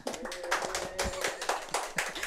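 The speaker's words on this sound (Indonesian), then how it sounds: "Tepuk tangan ya biar rame." A small studio audience claps for a guest on a talk show, giving a short burst of close, uneven hand claps.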